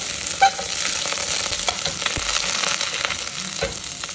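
Ginger and garlic sauté in a hot pan with a steady, close sizzle and crackle, broken by occasional scraping stirs and small knocks of a utensil.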